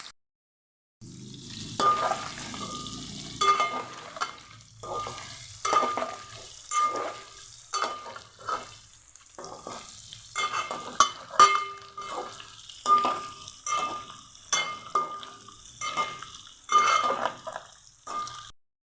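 Food fries in a pan until browned, heard as rhythmic bursts of sizzling and stirring with scraping and utensil clinks at close range, with quiet gaps between strokes.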